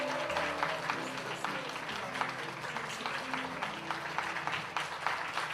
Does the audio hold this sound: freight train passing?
no